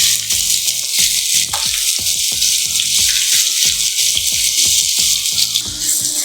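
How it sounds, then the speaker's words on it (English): Chopped onions hit hot oil in a pan, setting off a loud, continuous hissing sizzle broken by a quick series of rattling clatters. "Once the oil is heated, I'm going to add in the onions."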